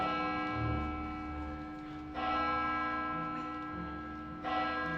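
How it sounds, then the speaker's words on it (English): An alarm bell rings during a theatre staging of Macbeth, sounding as repeated sustained metallic tolls about every two seconds, each strike ringing on and overlapping the next at moderate, slightly distant loudness. "Ring the bell!"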